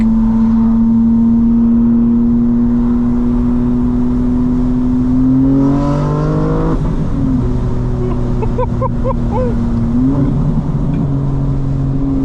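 A modified 2025 BMW M4 CS engine pulls hard and loud from inside the car, its drone rising steadily through the revs, with rapid gear shifts that break the pitch and then build again.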